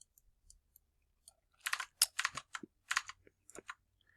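Light computer keyboard typing, several quick clusters of crisp clicks after a near-silent start, close and quiet with no talk.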